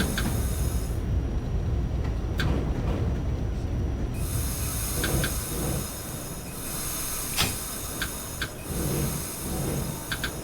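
A simulated Q subway train on the Brighton Beach Line in the OpenBVE train simulator rumbles into a station, with low rolling noise, scattered wheel squeals and clanks, and a high electrical whine cutting in and out.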